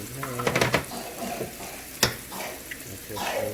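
Eggs added to a hot pan during poha cooking sizzle and crackle, with metallic clinks and a sharp knock against the pan partway through.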